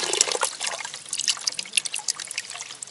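Spring water trickling and dripping at a mountain spring on a hiking route, a steady close splashing with irregular bright drips, heard alone without talk.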